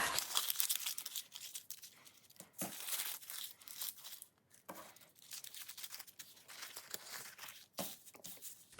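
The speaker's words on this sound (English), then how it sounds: "This one is extremely fragile because it's very thin packaging paper. So I'm crumpling them all up." Very thin packaging paper is crumpled by hand close to the microphone in repeated crinkling bursts with short pauses between them, and no one speaks.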